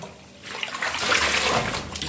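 Water splashing and swishing as something is rinsed in a container of clean water in a home kitchen, a close, continuous wash of sound that swells after a quiet start.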